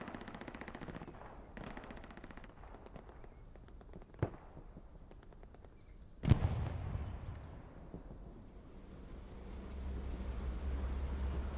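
Console combat game with a Panzer IV tank battling a 76 near a trench: rapid machine-gun bursts and scattered gunfire, then one loud, sharp cannon-like blast followed by a rumbling engine drone, all at moderate distance.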